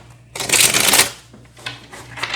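Tarot cards being shuffled in a loud riffling burst, then a few softer, shorter shuffling passes, close up with no talking.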